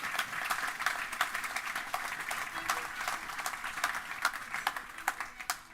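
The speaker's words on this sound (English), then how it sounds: "Please join me in thanking and giving them a huge round of applause" Audience applause for panel speakers at a global investment summit, many hands clapping steadily in a large hall, moderately loud with a few sharper claps standing out near the end.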